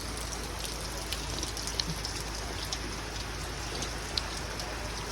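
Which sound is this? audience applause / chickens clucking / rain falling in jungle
rain falling in jungle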